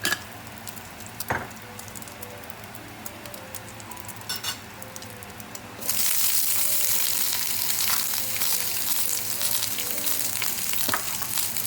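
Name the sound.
stir-frying green peppers in a wok over high heat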